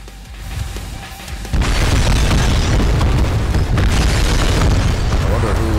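A loud explosive detonation inside an elevator in the shooter game Trepang2, a sudden heavy boom that stays as a sustained roaring blast and rumble, with voices and game chatter underneath.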